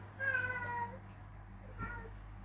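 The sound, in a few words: cat meowing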